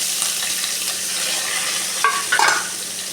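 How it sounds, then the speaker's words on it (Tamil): Ground curry leaf paste with chilli is sautéed in hot oil for rasam, giving a soft continuous sizzle close by with a few brief clinks of a stirring spoon against the pan. "லைட்டாக எண்ணெயில் வதக்கிக்கலாம்"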